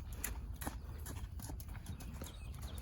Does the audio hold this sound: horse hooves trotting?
yes